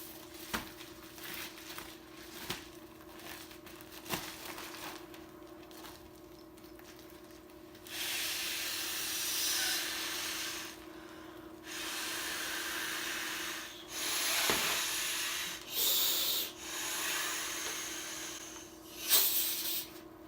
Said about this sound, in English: Alright, so we're going to inflate the Uberlite first.